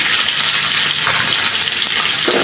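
Onions frying in hot oil in a pan, a loud, continuous crackling sizzle close up, steady throughout with a few small scrapes or taps.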